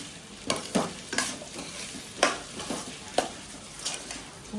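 Vegetables sizzle in a pan for Chinese noodles while being stirred, steady frying hiss broken by repeated scraping stirs at an uneven rhythm, close and fairly loud.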